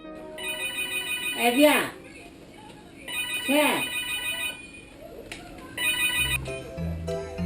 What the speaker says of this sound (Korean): 한 통의 전화가 걸려오자 반갑게 통화하는 할머니를 발견할 수 있었습니다.